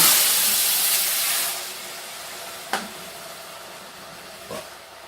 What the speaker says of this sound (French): je vais ajouter deux bonnes louches de bouillon